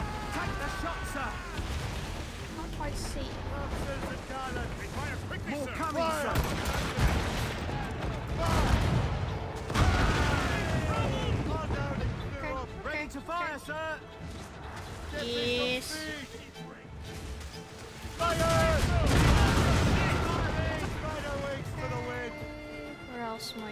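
Gunfire in the video game Assassin's Creed Rogue, bursts of shots and booming blasts scattered through a busy battle, mixed with shouting voices and other combat noise.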